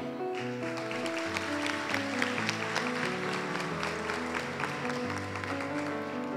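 An audience at a university graduation ceremony in Shippagan claps steadily and warmly for the graduates, a dense, sustained wash of applause from a large crowd with tonal music playing underneath throughout.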